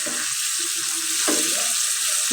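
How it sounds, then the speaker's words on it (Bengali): Ayre fish with drumsticks and potatoes is stirred in a hot oiled frying pan, making a loud, steady sizzle broken by scraping stir strokes, close up with no voices. "মাছটা আমি ভালো মতো নাড়াচাড়া করে নিলাম"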